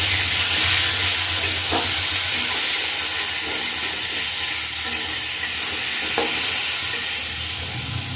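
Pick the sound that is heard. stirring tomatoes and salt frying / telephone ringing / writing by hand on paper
stirring tomatoes and salt frying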